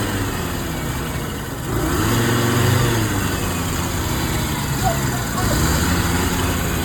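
A restored Mazda RX7 engine runs steadily at idle under its own compression, a broad low rumble with a slight rise in revs partway through, while people talk nearby.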